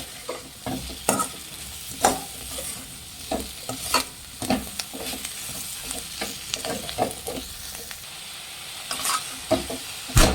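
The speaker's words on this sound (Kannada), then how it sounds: "ಇದನ್ನು ಹೈ ಫ್ಲೇಮಲ್ಲಿ ಇಟ್ಕೊಂಡು ಚೆನ್ನಾಗಿ ಫ್ರೈ ಮಾಡಬೇಕು" Chicken 65 fries with curry leaves in a pan over a high flame, giving a loud, continuous sizzle that is broken by frequent scraping and stirring strokes, with no talk.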